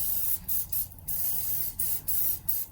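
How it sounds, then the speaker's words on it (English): Several short bursts of cooking spray onto corn hiss in quick succession, close and fairly loud, separated by brief pauses. "add a little bit of cooking spray to the corn"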